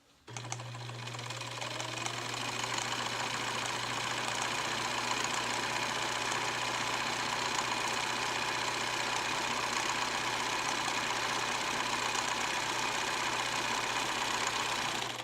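A Bernina sewing machine runs one continuous, steady stitching drone for about fifteen seconds, close and loud, with a low motor hum beneath the rapid needle chatter and no talking.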